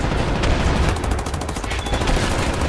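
Sustained heavy gunfire in Wolfenstein: The New Order, a dense, continuous barrage of rapid automatic shots and bursts that fills the whole stretch loudly without pause.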